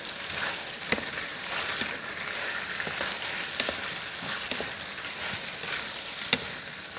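Onions and garlic sizzle in a pot, a close, steady crackling fry with occasional louder pops and stirring clicks, no voices over it.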